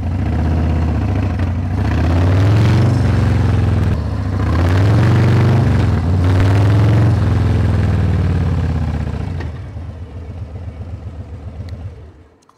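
A 2023 Harley-Davidson Breakout motorcycle pulls away from a stop, its loud, close engine rising in a steady rumbling rev that swells and holds for several seconds, then drops back to a lower, rougher idle near the end.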